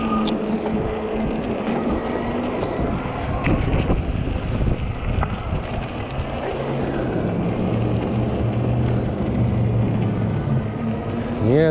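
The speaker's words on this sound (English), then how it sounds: "if you can stay out of the wind, it ain't bad, but the wind is chilly" Cold, chilly wind buffets the microphone on a 48V Ecotric 20-inch fat-tire e-bike ride, a loud, continuous low rumble with gusty swells and a faint whine underneath.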